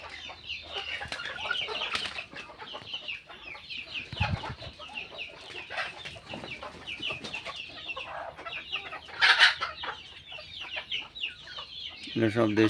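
Native country chickens cluck and chatter inside a coop, a steady close flock sound with occasional wing flaps, while a person talks over it at times.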